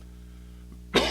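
A single sharp, close cough bursts out near the end of a quiet stretch with low steady hum, loud and abrupt from a presenter in a radio studio.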